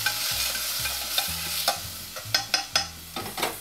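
Shaved raw garlic and onion cook in a hot pan, giving a steady close sizzle broken by several sharp scraping stirs of a utensil, with no one talking.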